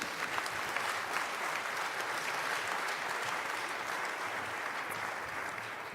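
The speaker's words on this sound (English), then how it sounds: "please give Uri a big round of applause as well" An audience at the re:publica 25 conference applauds a speaker with sustained, dense clapping from a large crowd, steady throughout and fading slightly at the end.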